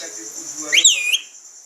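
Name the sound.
pet parrot whistling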